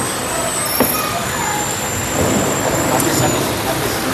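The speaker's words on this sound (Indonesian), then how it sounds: "Inilah nih, sudah hujan nih." Heavy rain pouring down during an outdoor religious lecture, a dense, loud continuous wash of hiss and rumble with no clear voice over it.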